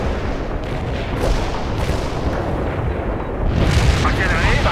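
An artillery barrage in World in Conflict rumbles as a dense, continuous roar of distant booms and blasts, swelling slightly toward the end, with voices faintly mixed underneath.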